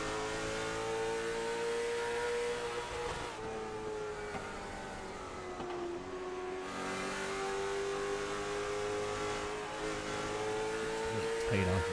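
A late model race car engine holds at full throttle in iRacing at North Wilkesboro, a sustained droning whine that shifts pitch slightly as it runs steadily throughout, with a voice talking faintly in the background.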